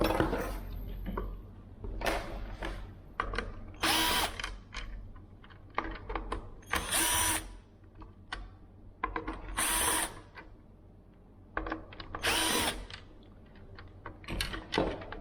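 A power tool spins out Torx screws from the headlight bezel of a 2018-2020 Jeep JL Wrangler, in four loud, close whirring bursts separated by quieter handling clicks.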